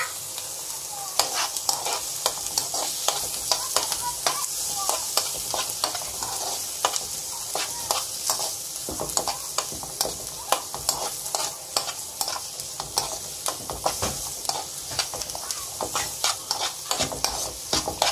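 Egg rolls frying in a pan while a curry is being made, a steady close sizzle with frequent crackling pops and stirring scrapes throughout, no talking.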